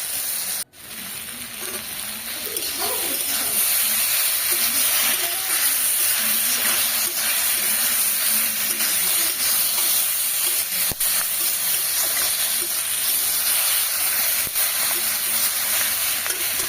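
Split green chillies sizzle and hiss in hot oil in a pan while a sea fish curry cooks, a loud steady frying crackle throughout with faint stirring.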